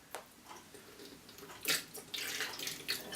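Water splashing and trickling as hands and homemade winemaking equipment are rinsed, close and uneven, with brief louder splashes toward the end.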